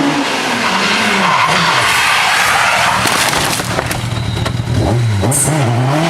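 Race car getting out of shape after rear contact during an auto race, a loud continuous roar of engines with tire noise and skidding rising and wavering throughout, no talk.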